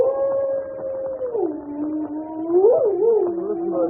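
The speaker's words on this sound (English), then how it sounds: "Listen to that dog. He's in an ugly temper." Dog howling as a radio drama sound effect: one long, mournful howl that dips low in the middle and then wavers upward, close and clear with nothing else behind it.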